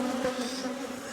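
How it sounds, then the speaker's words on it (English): Dense, steady buzzing of many honeybees swarming around a hive frame as it is handled during beekeeping, a continuous close hum with no voices. "I've got to shake all the bees off to make sure there ain't no more"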